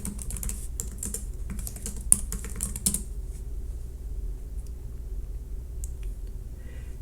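Login details typed on a computer keyboard, a quick run of close, crisp key clicks for about three seconds, then a pause with only faint room noise.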